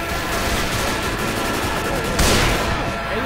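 Rapid gunfire in the zombie shooter Left 4 Dead 2, a dense continuous crackle of shots with a louder burst near the end, under a steady wash of game noise.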